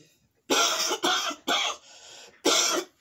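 Four harsh, forceful coughs close up, spaced roughly half a second apart, with a quieter raspy breath between the third and fourth.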